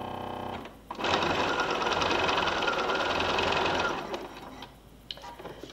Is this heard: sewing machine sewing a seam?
yes